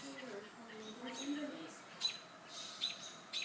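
A large bird that has landed on a home deck gives a few brief, moderately loud calls and chirps, spaced irregularly, while soft voices murmur nearby.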